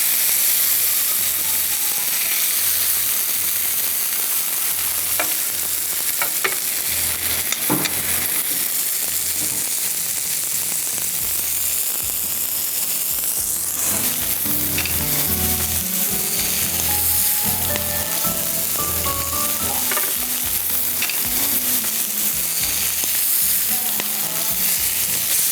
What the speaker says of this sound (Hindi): 2 टेबलस्पून इटालिया का पॉमेस ऑलिव ऑयल डाल के इसको ग्रिल कर रहे हैं